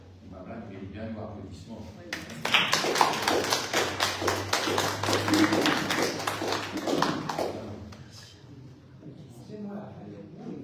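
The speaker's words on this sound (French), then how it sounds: "il mérite bien nos applaudissements." Audience applause during a question and answer session after a talk on Islam, a burst of scattered clapping rising and fading over several seconds amid murmuring voices.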